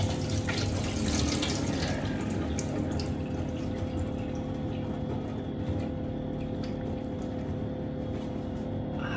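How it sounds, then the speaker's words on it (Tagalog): Water from boiled chicken skin pours and splashes steadily through a strainer, a continuous rushing liquid sound heard close up without speech. "Ngayon naman ay tatanggalan natin ng tubig."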